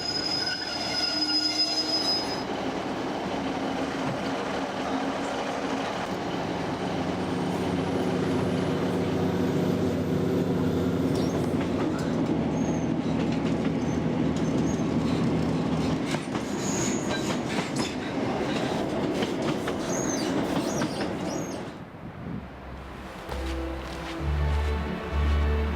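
A train runs along the Cornwall coast, its steady rumble and clatter heard up close for most of the clip, with high wheel squeals on top. It drops off near the end as the carriage sound shifts.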